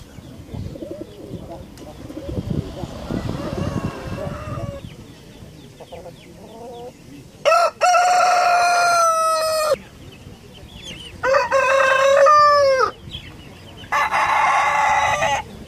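Two roosters kept at a pigeon breeder's yard in Kropotkin crow loudly, three long cock-a-doodle-doo calls in turn after quieter murmuring and clucking.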